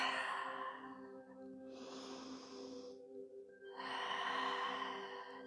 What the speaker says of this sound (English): Lion's breath.